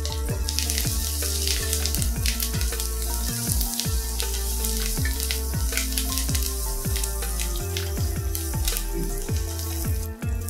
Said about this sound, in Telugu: దీంట్లో 2 మిరపకాయలు, కొద్దిగా ఇంగువ, దీంట్లోనే సన్నగా తరిగిన అల్లం ముక్కలు, పచ్చిమిర్చి,